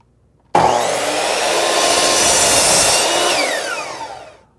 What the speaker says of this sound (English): hold that head down there until the blade stops spinning